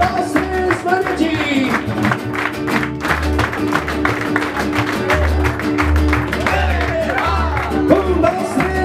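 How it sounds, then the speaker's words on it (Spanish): A crowd claps in steady rhythm along with a live youth mariachi band at a birthday celebration, sharp regular claps layered over loud trumpets, violins and guitars throughout. "Vienen muchachos, palmas, palmas, palmas, por favor"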